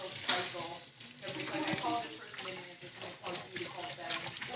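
Tap water runs steadily while a cocktail strainer is rinsed at a sink, a broad continuous splashing hiss with faint clatter, speech mixed in underneath.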